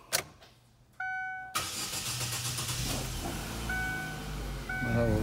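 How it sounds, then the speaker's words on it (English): A 2010 Chevy Aveo project car with a weak fuel pump cranks close up, first with short starter whirs and electronic chimes, then a longer grinding, sputtering crank that never settles into a steady idle. "Uh-oh, now it doesn't wanna start, here we go."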